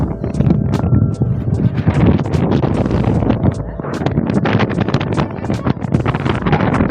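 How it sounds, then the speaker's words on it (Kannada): Strong wind on a hilltop at Himavad Gopalaswamy Temple buffets the microphone with loud, continuous rumbling gusts and roaring noise throughout. "ಇದರಲ್ಲೇ ಗೊತ್ತಾಯ್ತೈತೆ ನಿಮ್ಗೆ ವಿಂಡ್ ಸೌಂಡ್ ಐತೆ ಅಂತ"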